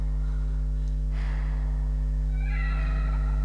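A cat meows in the horror video game The Evil Within, a single short meow arriving after a brief quiet stretch, moderately close over a steady low background hum.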